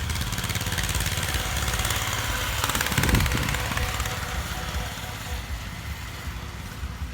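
A farm tractor engine chugs steadily nearby, a continuous mid-pitched drone joined by other vehicle engines in an outdoor convoy, staying fairly even throughout with only brief background voices.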